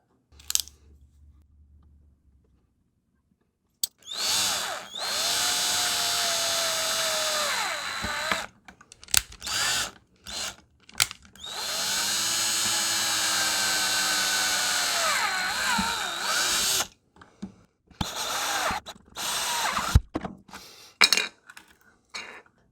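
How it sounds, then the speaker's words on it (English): Holes being drilled into a plastic gel blaster housing with a small power drill, in two long whirring bursts that rise in pitch as the drill spins up, with clattering handling and short pauses between them. "Okay, now that all the holes are drilled"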